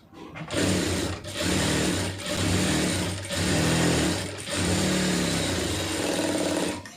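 A sewing machine stitches a lined blouse in several close, loud bursts of rapid whirring, briefly easing between runs, with no voices over it.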